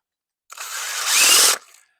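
A handheld power drill fitted with a planting auger attachment whirs for about a second, pitch and loudness rising briefly as it bites into soil for marigolds before cutting off, close and alone.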